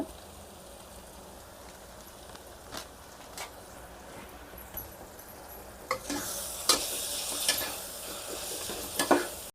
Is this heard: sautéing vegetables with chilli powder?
yes